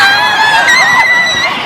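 Panicked concert crowd of young fans and parents screaming after a bomb blast at an arena; a loud, close wash of shrill overlapping screams and shouts, sustained for under two seconds.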